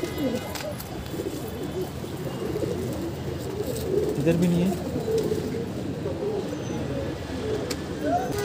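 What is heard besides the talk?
pigeon cooing, the pet pigeon Sheraji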